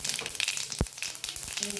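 Cumin and sesame seeds crackle and sizzle in hot oil, a close, dense popping hiss with one sharp tap partway through.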